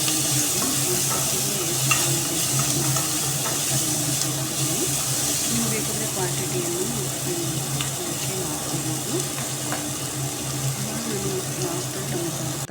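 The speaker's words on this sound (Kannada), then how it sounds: "ನಾನು ಬಟಾಣಿ ನಾನು ತರಕಾರಿ ಇಟ್ಕೊಂಡಿದ್ದೀನಲ್ಲ ಅದನ್ನು ಹಾಕ್ತಾ ಇದ್ದೀನಿ ಹಾಕಿ ಚೆನ್ನಾಗಿ ಫ್ರೈ ಮಾಡ್ಕೊಂಡು" Peas and mixed vegetables frying in a pan for pulao, a steady dense sizzle running the whole time with faint scraping from stirring and no talking.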